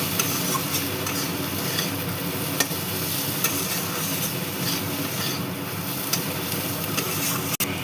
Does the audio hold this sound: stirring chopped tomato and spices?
yes